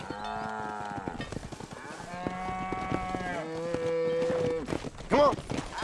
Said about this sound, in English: let's see if you can herd cows as well as you can charm humanity